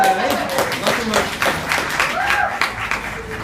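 A church congregation applauds a newly baptized member, a mix of scattered and overlapping hand claps over a murmur of voices, moderately loud and filling the room.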